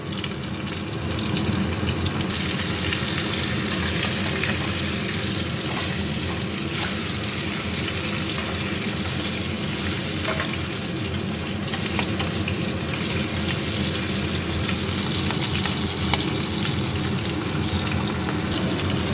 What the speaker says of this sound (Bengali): এই যে মাছের মাথা দিয়ে দিয়েছি, তেল গরম হয়ে গেছে, এবার হতে থাকবে